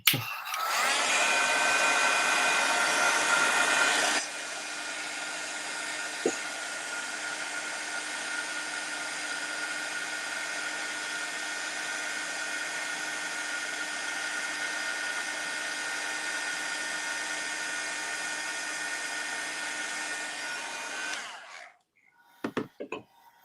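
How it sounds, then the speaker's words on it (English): A heat embossing tool blows hot air in a steady, loud whirring hiss with a faint whine that runs for about twenty seconds. It is louder at the start and cuts off near the end, followed by a few handling clicks. "So we will heat emboss for a second, so it could be that it's a little bit loud, but just for maximum a minute."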